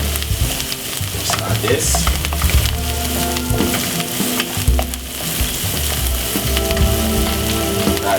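Curry powder and fried onion sizzle steadily in a pot while being stirred, with continuous frying crackle and scraping stir sounds throughout; a voice speaks briefly.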